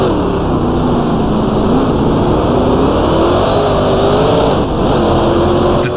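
Classic racing car in Grand Prix Legends on the VIR circuit, engine note rising steadily under throttle through an overpass and into a sequence of bends, loud and continuous with gentle pitch wavers.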